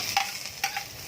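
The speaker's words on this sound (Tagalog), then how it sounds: "Maglagay ng konting mantika sa kawali, ilagay ang luya, bawang," Ginger, garlic and onion sautéing in a little oil in a pan: a soft sizzle broken by a few sharp scraping stir strokes, close and brief, with no voices.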